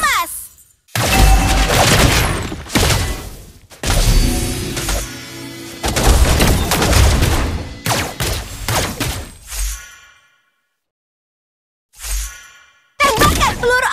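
Layla's golden bullet shots in the Mobile Legends game, heard as loud bursts of rapid firing and shattering impacts in several clusters separated by brief silences, mixed with game effects.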